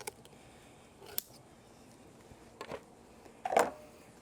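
Kitchen shears snip through the breastplate of a raw turkey for spatchcocking, three or four crisp, close cuts spaced about a second apart, with quiet pauses between them.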